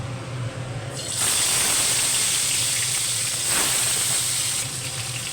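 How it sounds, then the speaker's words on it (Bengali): Katla fish pieces go into hot, smoking oil in a kadai, and a loud, dense sizzle begins and holds steady with a brief extra flare midway. Only the faint hiss of hot oil is heard beforehand. "আমার তেলটা গরম হয়ে গেছে, এই যে ধোঁয়া উঠে গেছে। এবার আমি মাছগুলো দিয়ে দেবো।"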